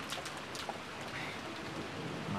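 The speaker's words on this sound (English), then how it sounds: "Even so, it certainly was a windy rain." Steady, windy rain pours as game ambience in the Umineko visual novel, a dense continuous wash of falling water with gusty swells and no voices.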